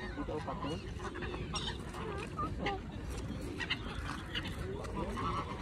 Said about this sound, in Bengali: হ্যাঁ, অনেক পাখি, তাই না?